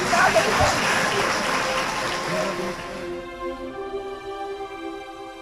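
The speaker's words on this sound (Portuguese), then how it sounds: "Vamos aplaudir mais." A church congregation applauds during a televised service, the clapping fading out midway as sustained music tones carry on.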